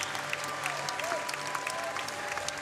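An audience at a Dutch stallion inspection applauds steadily, a dense wash of clapping from a large crowd throughout.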